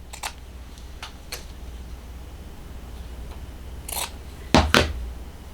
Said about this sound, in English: Just cutting beside each one.